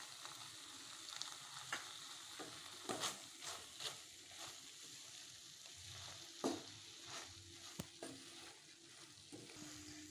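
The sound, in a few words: stirring dry fish fry with grated coconut in a pan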